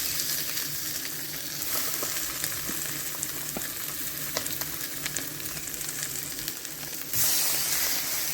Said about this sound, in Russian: Просто на горячую сковороду кладу печень вот так вот.